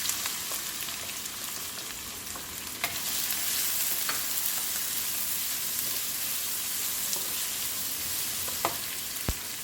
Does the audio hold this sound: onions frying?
yes